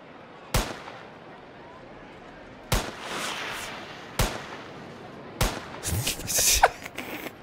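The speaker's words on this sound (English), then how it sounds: "this is Ski Sniper, where you shoot a skier" Sniper rifle shots ring out in the skiing game Ski Sniper, four sharp loud cracks spaced a few seconds apart, followed by a burst of busier clattering game noise.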